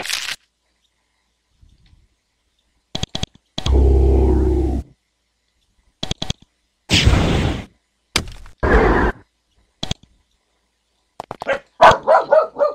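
A dog barks inside the fantasy role-playing game Avernum, a couple of short, close yelps among sparse game effects, with silent gaps between them.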